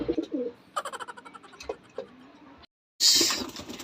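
Pigeons coo softly nearby in a loft, with low throaty murmurs, a few scattered clicks and taps, a brief silence, then a burst of rustling or flapping.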